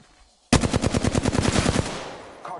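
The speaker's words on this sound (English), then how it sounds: "Getting shot at." Rapid automatic gunfire in a PS4 battle-royale style shooter game, a loud sustained burst of about a dozen closely spaced shots that cuts in abruptly and fades into a short tail.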